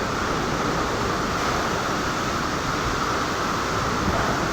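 Strong wind roars in a steady, unbroken rush during a storm, broad and loud throughout, with no pauses and nobody talking.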